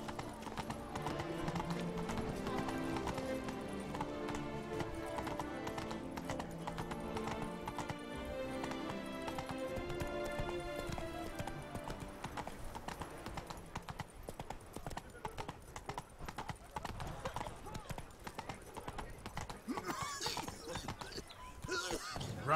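Roach the horse galloping in The Witcher 3, a rapid rhythmic clip-clop of hooves under game music, with a faint whinny and livelier rustling toward the end.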